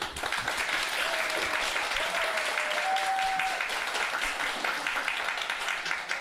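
A concert audience applauds steadily throughout, dense clapping with some cheering voices mixed in, loud and sustained without a break.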